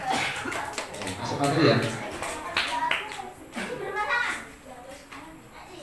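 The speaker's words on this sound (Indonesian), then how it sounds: "Oke, tepuk tangan dong." Primary schoolchildren at an elementary school clap together in a lively burst mixed with chatter, followed by an adult speaking and the children talking.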